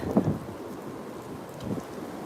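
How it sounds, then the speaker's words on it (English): Gusty wind rumbles and buffets against the microphone outdoors on a cold winter morning along Main Street in Stevensville, Maryland, a steady low roar with a stronger gust near the start and another swell later. "You'll hear wind."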